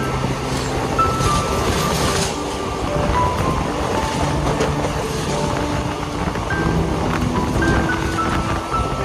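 Inside a moving train on a trip to Valsad, a constant loud rumble of carriage noise and track roar fills the cabin, with faint tonal squeals and rattles over it and no talking.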